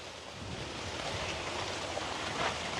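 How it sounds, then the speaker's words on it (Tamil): A pot of water with tubers boils vigorously over a fire or stove in a village garden, giving a steady, close, broadband rushing and bubbling hiss with no voices. "தண்ணி கொதிக்கிற கொதிக்க பாருங்க."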